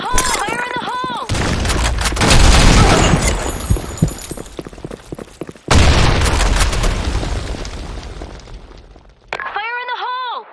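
A shooter video game fills with loud, dense bursts of rapid gunfire and booming grenade explosions, broken by short game voice callouts at the start and end.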